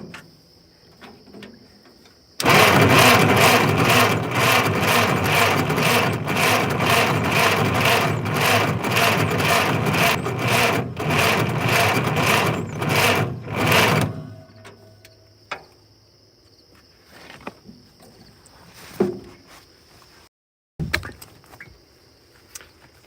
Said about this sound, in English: It just seems like that starter is cranking a little slow.